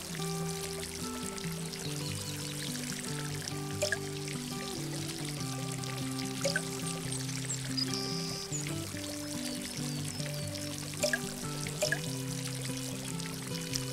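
Plants being watered in Garden Simulator, a continuous soft pouring and trickling of water over a steady musical background, fairly quiet, with small splashy accents now and then.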